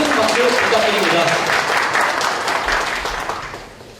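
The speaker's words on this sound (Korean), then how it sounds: "대표자님께 큰 박수 부탁드립니다" Loud, dense applause for a company representative at a product quality competition, sustained clapping from a crowd that fades out over several seconds, with voices mingled underneath.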